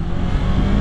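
A big semi truck on the road, heard while riding a lowered 2019 Yamaha R3 motorcycle close behind it: steady, loud, dense engine and road rumble throughout with no break.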